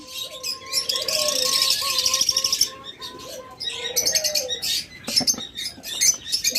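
Lovebirds in a breeding cage, among them a creamino red-eye pair, chirp and twitter busily up close, with rapid overlapping calls and bursts of sharp tweets throughout.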